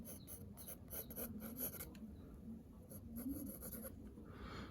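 A pencil sketching a shadow on paper, with soft, close scratchy rasping strokes repeated in quick bursts.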